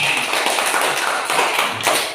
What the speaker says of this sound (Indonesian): Tepuk tangan untuk Leni